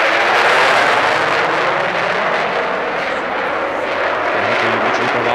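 An air force jet flying a vertical loop at an air show roars loudly and steadily overhead, a broad sustained engine rush with a slight swell and fade.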